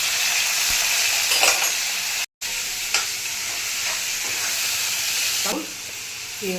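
Tomatoes and curry leaves fry in a pan for a Tamil tomato rice dish, giving a continuous loud sizzle and hiss with occasional stirring scrapes and clinks.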